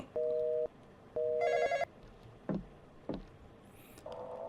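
Telephone ringing in the Roblox horror game Intruder: two separate electronic ring bursts near the start, then a harsher, brighter ring, with a few thuds and a later tone, loud and clear with no talk over it.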